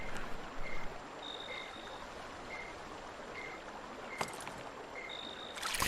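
Enchanted spring water flows steadily in Dragon Quest VIII, a soft continuous stream with faint chime-like tones recurring over the murmur.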